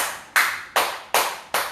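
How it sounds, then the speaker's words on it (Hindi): Four loud, sharp grip claps during an exercise routine, evenly spaced about 0.4 seconds apart, each crack ringing briefly before the next, close and alone with no voices. "कम ऑन, ग्रिप ताली प्लस करें"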